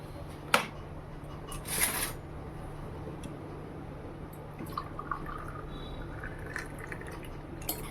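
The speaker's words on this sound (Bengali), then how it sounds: "আর এখানে দেখো চাটা ছেঁকে নিলাম।" Tea is strained into a cup at home in a kitchen, giving faint, sparse drips and small liquid trickles against a low background hum.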